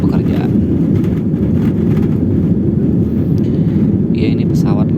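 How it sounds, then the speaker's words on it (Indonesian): An airplane takes off from Raden Intan II Airport in Tanjung Karang, Lampung, bound for Soekarno-Hatta, Tangerang, giving a loud, steady, broad engine roar and rumble that fills the whole stretch. "ini pesawat lagi take off dari Bandara Raden Intan II Tanjung Karang, Lampung menuju Bandara Soekarno-Hatta, Tangerang."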